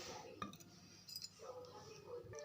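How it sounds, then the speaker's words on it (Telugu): Ice cubes drop into a glass of healthy chia seed drink, giving a few quick clinks and knocks against the glass followed by softer rattling, close but faint, with low background voice. "మనకు కొంచెం చల్లగా ఉండడం కోసం ఐస్ క్యూబ్స్ అయితే వేస్తున్నాను"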